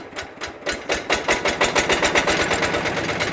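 A power tiller's small engine catches after starting and runs with a fast, steady knocking beat that quickens and settles into an even idle, loud and close with no talk.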